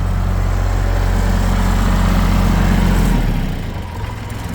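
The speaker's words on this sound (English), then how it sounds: "I'm going to turn the tractor down so you can hear" A loud, steady diesel tractor engine rumbles at idle nearby in a farm corral, then drops in level as it throttles down near the end.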